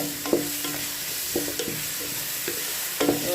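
Garlic, curry leaves and green chillies sauté in a pan, a low steady sizzle punctuated by several scraping stirs and taps of a spoon against the vessel.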